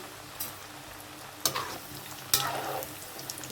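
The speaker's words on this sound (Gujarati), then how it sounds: "જોઈ શકો છો ફ્રાય થઈ જશે" Food frying in a pan for an Avdi leaf vegetable dish, a soft steady sizzle with a couple of sharp clatters of a utensil against the pan.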